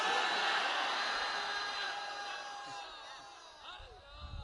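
A large crowd at a religious gathering in Tando Muhammad Khan chants loudly in unison, with a dense, echoing roar of voices that gradually fades before a few scattered calls.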